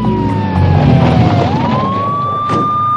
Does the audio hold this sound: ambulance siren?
yes